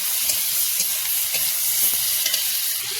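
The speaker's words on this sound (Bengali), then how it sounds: "কড়াতে দিয়েছি লঙ্কা আর হলুদ দিয়ে ভালো করে এবার কষে নেব।" Chili and turmeric fry in a wok for a kohlrabi curry with ginger and cumin paste, giving a continuous close sizzle with light scraping as the spices are stirred and no voices.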